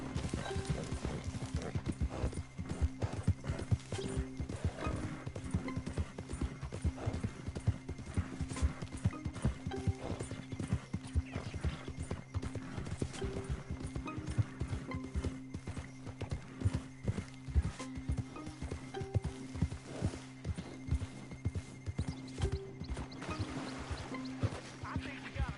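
A horse in the video game Red Dead Redemption 2 gallops with rapid, continuous hoofbeats, and a neigh rises once or twice over the pounding rhythm. Someone talks loudly over it at times.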